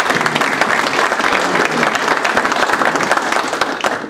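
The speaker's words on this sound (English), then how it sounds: "Again, a round of applause for all the candidates standing here." A room of attendees applauds the candidates at a taxpayers' meeting, a short burst of close, dense clapping.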